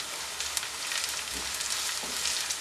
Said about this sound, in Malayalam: ഇഞ്ചിയും വെളുത്തുള്ളിയൊക്കെ നന്നായിട്ട് മൂത്ത് വന്നിട്ടുണ്ട്